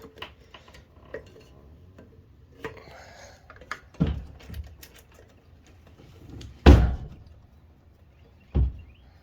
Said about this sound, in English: It's windy today, so my shed doors keep flying around.